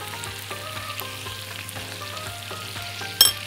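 Vegetables and sausage sizzle steadily in a pan as they are sautéed, with a continuous frying hiss and a brief louder clatter near the end, no talking.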